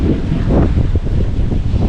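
Strong wind at the Pililla wind farm in Rizal buffeting the microphone with a loud, continuous roar and rumble, no voices heard.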